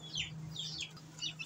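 Young chicks peep in short, high bursts at close range, quiet against a low steady hum.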